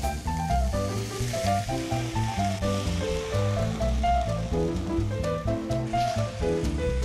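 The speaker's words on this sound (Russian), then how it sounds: "Добавляю белое вино" White wine poured into a pan of browned frying liver sets off a continuous sizzling hiss, heard under steady melodic background music with no talking.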